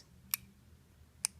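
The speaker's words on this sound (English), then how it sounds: "we're going to be listening for a little click noise." Two sharp, quiet mechanical clicks about a second apart from the EGR valve solenoid of a Mercedes W163 ML350 or ML500, against a faint low background hum.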